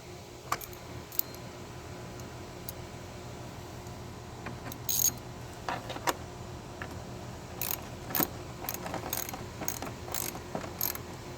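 Ratcheting clicks from a Phillips or 7mm screw being driven during engine and transmission work on a 2013 Hyundai Sonata 2.4L, scattered taps and tool clatter over a steady low hum, with no talk.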